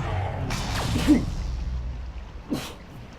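A single sharp sneeze bursts out, followed by a second shorter one a moment later, close and fairly loud, with light breathing between them during a Dead Cells gaming session.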